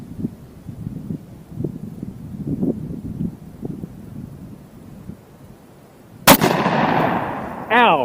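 A Desert Eagle .50 AE pistol fires a single loud, sharp shot at groceries outdoors, followed by a ringing echoing tail. Low talk and wind murmur come before the blast.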